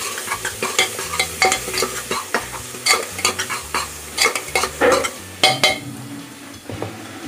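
Black pepper powder is stirred into a sizzling mixture in a frying pan, a spoon scraping and knocking rhythmically against the pan over a steady frying hiss, close and fairly loud.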